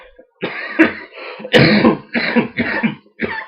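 A series of harsh, raspy coughs and throat clearing come in quick bursts, close and loud, with no talking.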